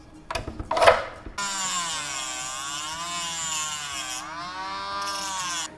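A power tool grinds material from the lip of a shotgun magazine for an SAS-12. After a few short scrapes, a loud, steady whine with a shifting pitch runs continuously up close, with no talking.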